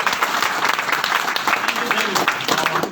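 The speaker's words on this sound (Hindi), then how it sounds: "चलिए जोरदार तालियां" An audience at a business plan seminar breaks into applause, a dense, continuous wash of clapping that holds steady for a few seconds at fairly close range.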